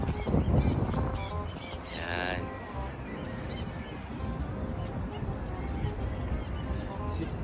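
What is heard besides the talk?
birds calling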